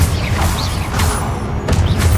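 Confringo blasting curse cast in the video game Hogwarts Legacy, a loud burst with a rumbling low impact and crackling debris over a few seconds, with a second blast near the end.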